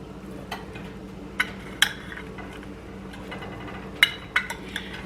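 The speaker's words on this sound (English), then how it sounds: "I want to give them a little stir." Roasted sweet potatoes are stirred in a baking dish, with a few sharp clinks and scrapes of a utensil against the dish standing out over a low, steady background hum.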